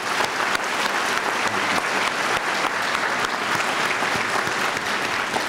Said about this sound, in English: Ladies and gentlemen, please, a round of applause.